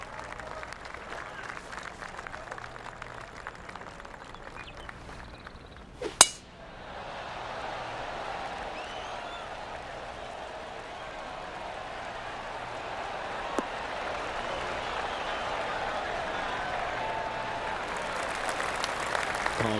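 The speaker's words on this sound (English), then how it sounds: "golf clap" Polite golf clap from a gallery crowd in PGA Tour 2K23, a soft ongoing patter of applause after a sharp click, rising gently and holding to the end.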